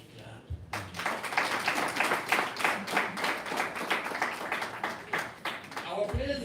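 An audience at a live conservation and public health gathering breaks into steady, dense clapping that starts abruptly and continues at an even level for several seconds.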